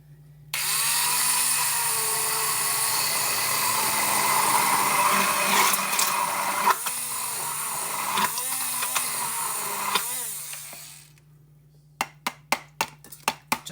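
An immersion blender whirs steadily for about ten seconds, close and loud, blending egg yolk with olive oil for homemade ranch dressing, then cuts off and is followed by a few sharp taps.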